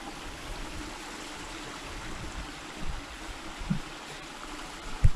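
River water flows steadily near a lock, a continuous broadband rushing and trickling that stays close and moderately loud, with a few small splashes or knocks toward the end and no voices.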